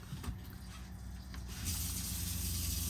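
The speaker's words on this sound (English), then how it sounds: "So now with the water pump on" A low, steady hum and hiss comes from the water pump running on a 2023 Forest River Sunseeker 3250DSLE RV, and the sound grows noticeably louder and fuller partway through, then holds constant with no talking.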